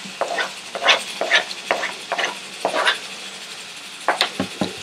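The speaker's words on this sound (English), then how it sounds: "Okay, give this a nice mix." A spoon scrapes and stirs finely chopped tomatoes in a pan for a besan mirchi dish, making a run of distinct, close strokes in an uneven rhythm with short pauses, no talking.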